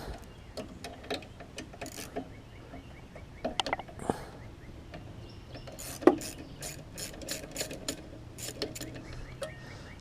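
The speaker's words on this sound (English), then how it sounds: "find your 3/8 inch socket, take the carburetor off here." 3/8 inch socket ratchet clicking in short irregular bursts while loosening the carburetor on a Murray self-propelled lawn mower, close and fairly quiet, with scattered tool clatter.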